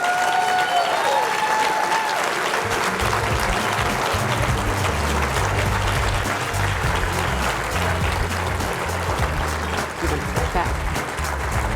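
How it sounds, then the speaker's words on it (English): Loud, sustained applause fills a hall at an evening charity event program as an audience cheers an honoree, with low music tones running beneath the continuous clapping. "Can we give Shirley another round of applause?"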